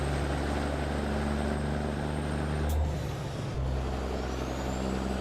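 Caterpillar truck engine, a 550 horsepower Cat unit, droning in American Truck Simulator with a deep steady hum, a short hiss like an air brake release midway and a pitch shift afterward, no talking.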